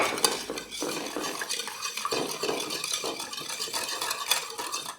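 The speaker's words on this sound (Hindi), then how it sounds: "चीनी, और अंडा, इन सबको फेंट लेते हैं।" Sugar and eggs being whisked in a bowl for chocolate French toast, a steady run of quick scraping, clinking strokes against the bowl wall with no talking.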